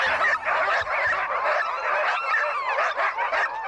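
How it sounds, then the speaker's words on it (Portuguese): A large pack of huskies, sled dogs pulling a sled across icy Alaskan terrain, yapping and barking in a dense, continuous chorus of overlapping yelps, loud and close throughout. "esses 240 cachorros são huskies, animais especializados em puxar um trenó improvisado por essa paisagem gelada"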